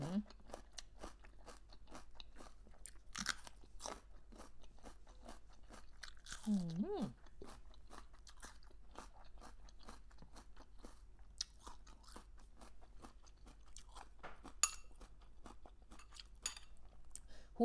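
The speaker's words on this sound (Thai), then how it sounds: "หูหมูนี่มันมีกระดูกอ่อนใช่ไหมคะนันกรุบกรุบกรุบกรุบหู" Close, steady crunching of someone chewing crunchy pig ear cartilage, rapid repeated bites, with a brief voice sound partway through.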